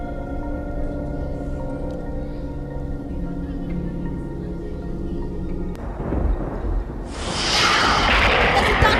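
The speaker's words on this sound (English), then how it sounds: "There's a thunder and the maid screams." Thunder sound effect in a school stage play of The Canterville Ghost: a low rumbling tonal bed gives way to a sudden crack and a loud, hissing, crashing roll of thunder in the final seconds.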